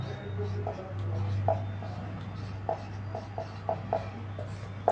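Chalk scratches on a board while a convex mirror diagram is drawn in a physics class, coming as short intermittent strokes and taps over a low steady hum, with no speech.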